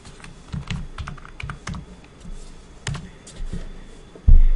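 Computer keyboard keys are pressed in irregular bursts of clicks and taps, close and fairly soft, ending with a heavier thump, with no speech.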